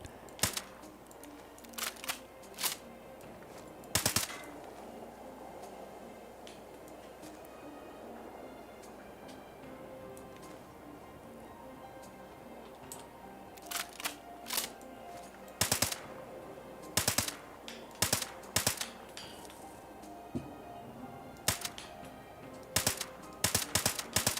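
Gunshots in Fallout 76, scattered sharp cracks over a quiet ambient bed, sparse at first and then clustering into quicker runs of shots toward the end.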